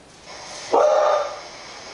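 A dog gives a single short bark or yelp, close and fairly loud, over a faint steady background hiss.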